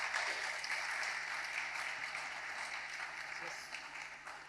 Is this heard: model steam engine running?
no